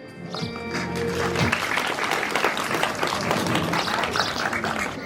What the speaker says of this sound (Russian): Давайте же бурными аплодисментами встретим тех, кто уходит из школы в большой мир.